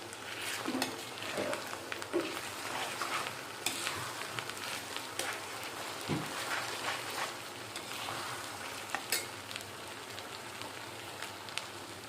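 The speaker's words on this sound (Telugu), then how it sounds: "ఇప్పుడు అల్లం వెల్లుల్లి పేస్ట్ కూడా వేసుకుందాము ఒక స్పూను" A spoonful of ginger-garlic paste frying in hot oil for an Andhra-style mutton offal and raw mango curry: a soft, continuous sizzle broken by occasional stirring scrapes, fairly quiet and without talk.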